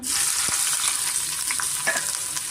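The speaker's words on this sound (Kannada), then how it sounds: "ಈಗ ನಾವು ಹಾಗಲಕಾಯಿನ ಚೆನ್ನಾಗಿ ಸ್ವಲ್ಪ ಮೀಡಿಯಂ ಫ್ಲೇಮಲ್ಲೇ ನಾವು ಫ್ರೈ ಮಾಡ್ಕೋಣ" Bitter gourd fries in hot oil over a medium flame, a steady bright sizzle close by with a few soft scraping or clinking touches as it's moved in the pan, no voices.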